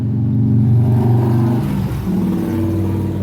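A car engine revs and rumbles close by, pulling away with a rising then dipping growl amid steady street noise.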